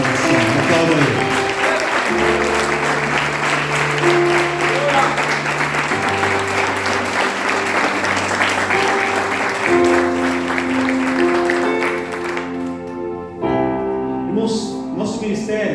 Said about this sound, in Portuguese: Desocupa suas mãos e dá uma salva de palmas para a palavra do Senhor.